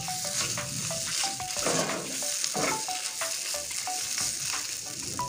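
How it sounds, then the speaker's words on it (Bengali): Taro greens frying in a dry pan, a close continuous sizzle with frequent scraping strokes of a spatula and small metallic clinks as the leaves are stirred. "এই দেখুন কচু শাক কত সুন্দর করে আমি ভেজে নিয়েছি"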